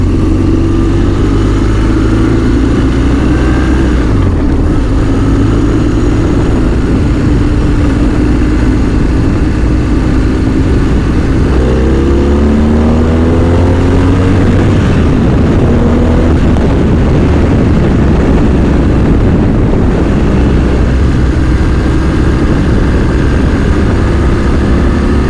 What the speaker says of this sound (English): we can make some acceleration with a boxer sound